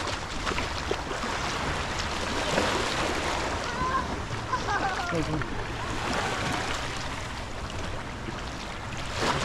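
Waves washing in steadily on Hawaii Beach in Sihanoukville, Cambodia, a broad continuous surf roar with wind buffeting the microphone, and voices chatting faintly underneath.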